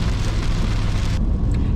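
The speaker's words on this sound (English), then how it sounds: "The rain was supposed to taper off this morning, but as we got closer to Boise," Heavy rain drums on a car driving on the highway toward Boise, a dense, loud hiss over low road rumble, the wash cutting back abruptly near the end.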